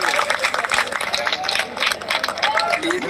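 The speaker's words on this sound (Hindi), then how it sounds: "एक बार इस आदमी के लिए जोरदार ताली बजाओ" A crowd claps and applauds loudly and steadily at an outdoor union gathering under a tent, a dense rattle of many hands continuing throughout.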